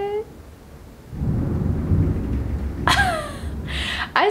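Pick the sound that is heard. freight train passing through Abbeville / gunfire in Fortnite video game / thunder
thunder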